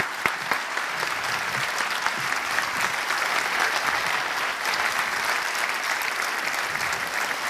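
A lecture audience in Uruguay gives a sustained round of applause, thick and even throughout, heard alone without any talking.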